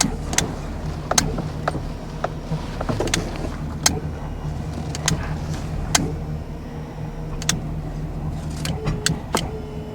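A broken-down tow truck being tested, its motor and winch mechanism running as a steady low hum with repeated sharp clicks and clanks spread throughout, fairly close.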